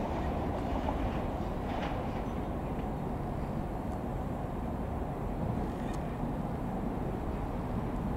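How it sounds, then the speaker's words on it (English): A London Underground District Line train bound from Upminster to Richmond departs Barking station, a steady low rumble that holds evenly throughout with a faint squeal near the end. "I'm going to tell you that that is a District Line train from Upminster to Richmond"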